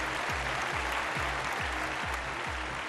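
Audience applause welcoming the judges at a televised talent show, a steady, dense roar of clapping from a crowd, loud and continuous throughout with rhythmic low thumps beneath.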